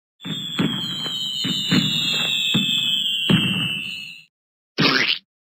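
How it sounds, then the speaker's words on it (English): A sustained high whistling tone with repeated sharp pops and cracks, like a firework toy, from rainbow fireworks in an educational children's game, followed by a brief burst of hiss after a short pause. "The rainbow fireworks."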